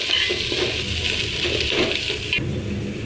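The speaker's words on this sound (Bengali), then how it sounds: "রসুনটা বাজিয়ে নিচ্ছি অনেক সুন্দর করে" Garlic and ginger frying in oil in a pan, a steady close sizzle with crackling bursts, followed by a brief clink of a utensil against the pan near the end.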